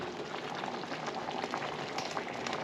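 Pork cutlets simmering in a pan with water turning to gravy, a steady close bubbling and sizzling boil with no talk.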